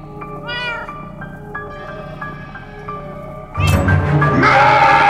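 A cat meows close by in a series of loud, drawn-out, rising and falling cries, ending in a harsher, louder yowl, with no talking over it.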